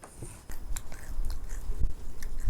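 Crisp bites and crunching chews of crispy fried sweet-and-sour pork up close, a few sharp cracks followed by steady mastication, with no talking.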